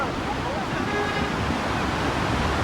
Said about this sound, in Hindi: यहाँ पे पानी का शोर सुने आप